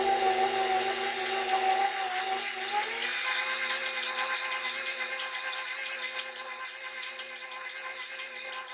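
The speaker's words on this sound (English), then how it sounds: "We plug it in, bring it up, and we start slow mixing, and then bring it up to speed." An electric mixer whirs through blackstrap molasses and brown sugar, its motor whine starting slow and then climbing to a higher speed, with a steady gritty rattle of the beaters in the bowl.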